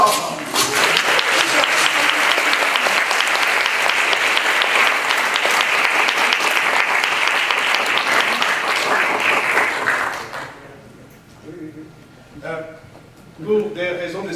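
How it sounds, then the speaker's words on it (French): A studio audience bursts into loud, dense applause that sustains for about ten seconds, then quickly fades as a voice begins speaking. "Je vous demande de les applaudir très fort."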